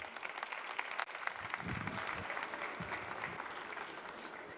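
Audience at the Batimat trade show opening keynote applauding former French president François Hollande, a steady dense clapping that fills the hall for several seconds with a brief dip near the start.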